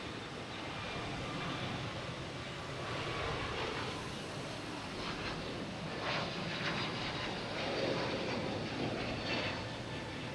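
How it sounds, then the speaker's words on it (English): A United Airlines Airbus A321neo jet departing Boston Logan Airport toward Denver, heard from afar as a steady, broad engine roar with mild swells, fairly faint against outdoor background noise. "Now we got United Airlines and A321neo heading to Denver."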